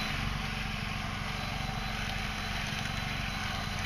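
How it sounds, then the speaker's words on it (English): A hybrid sailboat's electric motor runs in reverse with a steady, even mechanical hum and whir that holds at constant loudness throughout, with no speech over it. "And these two goes towards the electric motor."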